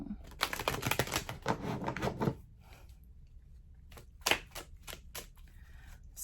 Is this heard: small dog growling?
no